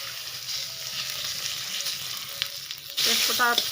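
A bay leaf fries and is stirred in hot oil in a pan, giving a steady sizzle with a louder burst of spattering and scraping near the end.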